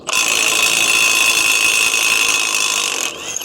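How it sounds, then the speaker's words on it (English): A Milwaukee M12 Gen 3 impact wrench hammers away at a stuck nut, a loud, rapid, continuous rattling buzz lasting about three seconds before cutting off abruptly. "So this is the one that the Gen 1 couldn't do, that Josh couldn't undo. So let's try it with this one."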